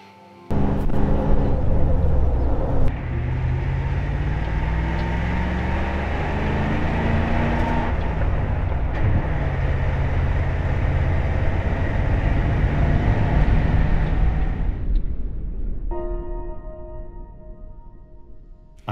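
A 1981 two-door Range Rover with a 3.5 litre V8 drives along, its engine a steady, loud low rumble heard close and alone for most of the stretch before it eases off and fades near the end.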